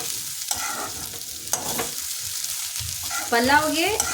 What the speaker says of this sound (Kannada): ಈಗ ಚೆನ್ನಾಗಿ ಮಿಕ್ಸ್ ಮಾಡ್ಕೊಳ್ಳೋಣ.